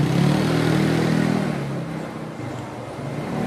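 Motorcycles speeding along a busy Taipei street, a loud engine roar sweeping close past, then easing before a further engine swells back in, with traffic clatter beneath.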